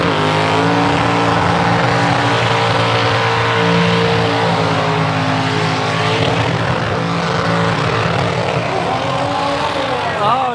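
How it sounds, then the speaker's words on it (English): At a burnout event, car engines roar loudly and continuously, revving hard through a dense, sustained drone of mechanical noise. "Look at some of these burnout cars."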